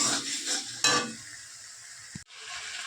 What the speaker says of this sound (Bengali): আর এই যে মশলা কষাচ্ছি, এখনো কষাতে হবে, এখনো হয়নি কষানো।